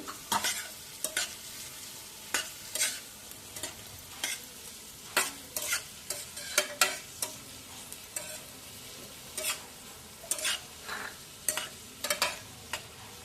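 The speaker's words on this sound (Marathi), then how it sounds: "आता शिमला मिरची टाकायची एक दोन ती पण एक मिनिट परतवायची आहे" Onion and capsicum sautéing in hot oil for veg Manchurian, with a spatula scraping and clacking against the pan in irregular bursts over a soft, steady sizzle, close and moderately loud.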